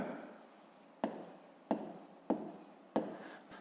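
A pen scratches on paper during a fifth-grade maths exercise, close and quiet, in steady strokes marked by about five crisp taps at regular intervals.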